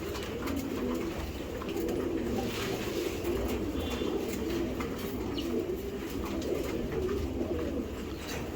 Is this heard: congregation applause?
no